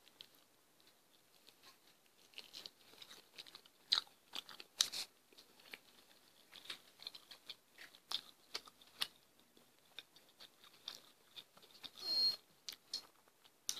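Close, quiet bites and chewing on spicy Wingstop Cajun chicken wings, with irregular crunchy snaps and soft wet mouth sounds scattered over a near-silent background, no talking.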